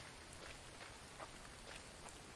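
Steady rain patters in a video game, a dense even hiss of drops with faint brighter taps scattered throughout, quiet and continuous with no talk over it.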